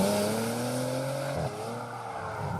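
Handcrafted W12 twelve-cylinder engine at the front of a 2018 Bentley Continental GT growling into life, a loud close rumble with rising and falling pitch and a brief dip mid-rev.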